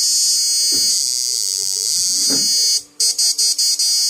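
An upgraded 10-FET electric fishing machine runs with a steady, loud high-pitched electronic whine, then drops out near the end and returns in several short rapid pulses.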